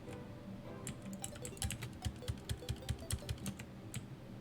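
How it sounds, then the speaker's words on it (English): Rapid clacky keystrokes from a mechanical keyboard, typed in uneven bursts with sharper, louder presses toward the middle, close by with no talking. "I am playing on a mechanical keyboard"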